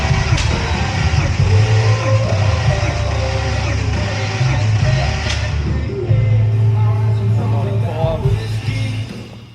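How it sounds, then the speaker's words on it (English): An Intech engine sitting out of the car on the floor is cranked over for a compression test, giving a loud, steady, rhythmic churning drone that runs on for several seconds before easing off. "first thing we're going to do is compression test it on the floor"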